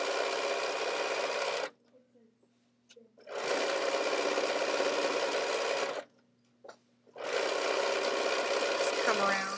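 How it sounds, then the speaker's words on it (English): A sewing machine with a walking foot stitching quilt binding, running in three sustained loud bursts of steady rapid whirring, separated by short pauses where a voice is faintly heard. "Using the walking foot on the sewing machine and then doing nice, clean, mitered corners."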